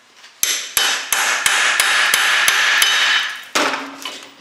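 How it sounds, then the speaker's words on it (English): A hammer strikes a Mac Tools R.B.R.T bolt extractor socket seated on a stubborn bolt: about nine sharp, ringing metallic whacks in an uneven rhythm, loud and close, with a steady hiss between blows. "I better give her another whack with the old hammer"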